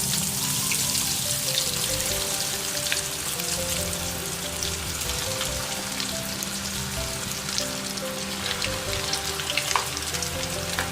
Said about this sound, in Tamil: நல்ல ஒரு ப்ரௌன் கலர் வர வரைக்கும் நல்லா நீங்கள் ஃப்ரை பண்ணுங்கள்